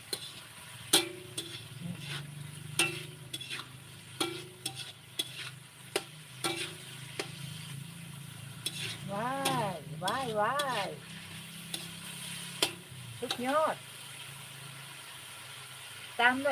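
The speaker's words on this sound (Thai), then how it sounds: "ดอกกระลำลงไป ตักให้ดอกกระลำสุก เพราะว่าดอกกระลำนี่มันนานสุกนะพี่น้องนะมันแข็งนะ" Pork and cauliflower are stir-fried in a pan, with repeated sharp spatula clinks and scrapes over a low sizzle. Brief voices rise partway through.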